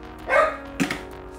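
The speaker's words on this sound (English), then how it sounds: "Pardon the dog" A dog barks indoors during aquarium cleaning, giving two or three sharp, fairly close barks in quick succession, with no talk over them.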